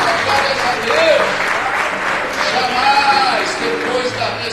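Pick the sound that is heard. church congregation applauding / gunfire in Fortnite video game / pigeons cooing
church congregation applauding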